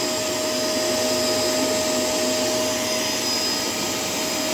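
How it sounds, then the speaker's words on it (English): A Shark LA702 Lift-Away vacuum cleaner runs steadily for the whole stretch, a loud, close, continuous motor roar with a constant whine and no voices. "I would gladly like to use this little piece right here for the portion of the vacuum to be able to vacuum up the floor."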